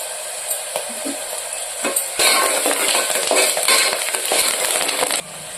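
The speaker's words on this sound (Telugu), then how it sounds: "ఆనియన్స్ ఇలా ఫ్రై అయితే సరిపోతుంది" Onions with salt and curry leaves fry in a pan for a Rayalaseema mutton curry, starting with spoon scrapes and clinks before a loud hissing sizzle swells up and runs steadily, then drops off near the end.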